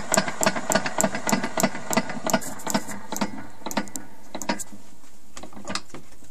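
A Honda GX270 paramotor engine runs after ignition, a steady, close mechanical clatter of rapid repeating knocks and ticks that loosens into a more irregular ticking toward the end.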